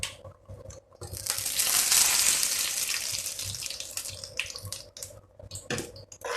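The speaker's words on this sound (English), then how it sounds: "So now I will add the curd which I have whipped in a mixie." Whipped curd pours into a pot of simmering Madras cucumber pachadi with a swelling, hissing splash that peaks and fades, followed by small scraping and stirring clicks nearby.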